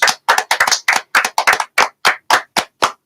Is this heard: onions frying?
no